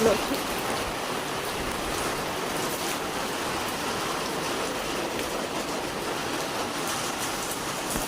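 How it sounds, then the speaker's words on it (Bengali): Heavy rain pours steadily as a dense, even wash of hiss that stays constant throughout, with no talk heard over it. "কত জোর বৃষ্টি"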